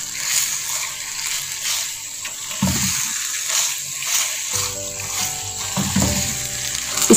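Sweet and sour shell pasta with marinated chicken being mixed in a pan, soft sizzling under a few scraping, clattering stirs, close and moderately loud, with a faint hiss throughout.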